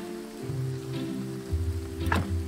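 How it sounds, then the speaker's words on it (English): Steady rain in the farming video game Graveyard Keeper, a soft continuous patter mixed with low background game music and no talking. "It's raining again. This is good for planting, you know."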